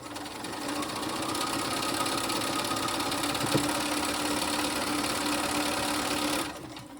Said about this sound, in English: I'm just going to sew them together in pairs and chain piece them